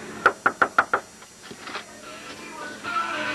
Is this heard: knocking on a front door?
yes